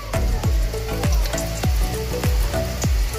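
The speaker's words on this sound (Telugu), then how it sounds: "బ్రౌన్ కలర్ వచ్చేంత వరకు ఫ్రై చేసుకుందాం" Cashews fry in a pan under a constant sizzle, punctuated roughly every half second by the thud of a spoon knocking the pan as it stirs, close and fairly loud, with no talking.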